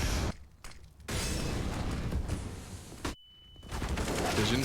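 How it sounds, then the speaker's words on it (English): Bursts of rifle fire, including an AK-47, ring out in a Counter-Strike: Global Offensive pro league match, several loud volleys broken by short pauses, with no one talking. "good shooting from Config"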